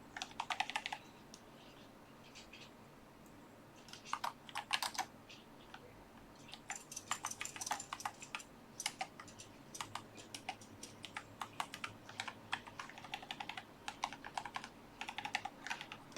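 Steady typing on a computer keyboard, irregular bursts of clicking keys at close range with short pauses between runs, no talk.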